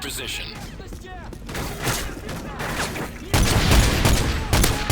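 M14 rifle and other gunfire in Call of Duty MW3 Survival Mode, scattered shots at first and then a loud, dense barrage of rapid fire, with a voice talking underneath.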